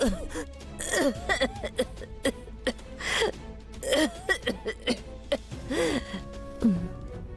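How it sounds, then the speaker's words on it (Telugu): An elderly grandmother coughs and clears her throat in repeated gasping bursts, close and fairly loud, with breathy sighs between the fits. "అప్పుడప్పుడు అత్తయ్య గారు ఇలాగే దగ్గుతున్నారండి"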